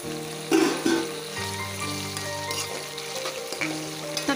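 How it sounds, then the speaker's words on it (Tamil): Chopped tomatoes sautéing in a pan for killi potta milagai sambar, with a steady close sizzle and bursts of spatula scraping and stirring throughout, plus a sustained low hum in the middle. "இப்போ தக்காளி சேர்த்துக்கலாங்க"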